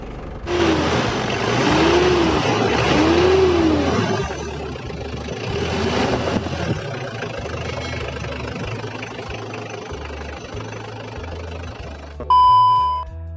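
Mitsubishi Strada L200 pickup from 2003 with a 2500 cc turbo intercooler engine, revved in a few rising bursts at first and then held at a steady idle-like rumble, loud and close, ending with a brief beep.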